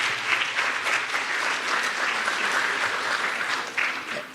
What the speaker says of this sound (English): Let's give a round of applause for our wonderful sponsors.